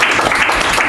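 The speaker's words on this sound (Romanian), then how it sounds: "vreau să-l aplaudăm pe Claudiu și pe toți cei de" A roomful of people at a book launch Q&A session applauds in a loud, close, dense burst of clapping.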